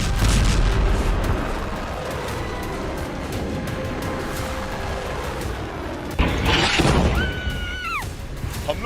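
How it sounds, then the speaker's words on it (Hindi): Missile strikes and explosions in Beirut, heavy booming blasts and crashing rumble up front, followed by a sustained roar, with a sudden loud impact partway through and a whining, siren-like tone near the end. "इजराइल ने बेरूत में मिसाइलें दाग दी।"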